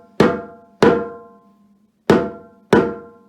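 Four struck, ringing notes with a bright attack and decaying tail form a rhythm of two crotchets and a minim: two evenly spaced hits, a longer gap, then two more, loud and close with no voice.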